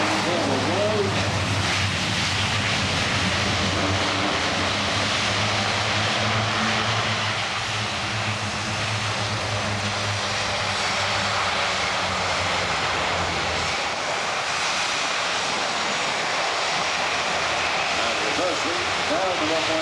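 An Airbus A400M turboprop military transport touches down on the runway at Farnborough 2016, its loud, broad engine roar filling the air continuously from a distance, with people talking over it.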